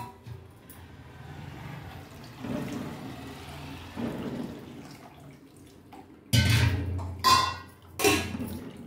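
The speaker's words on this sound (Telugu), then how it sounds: "ఇందులో కొంచెం నీళ్లు పోస్తాను." Water is poured from a vessel onto soaked tamarind for Udupi hotel-style sambar, with soft trickling and splashing, then a few louder sloshes and clinks of a metal pot near the end.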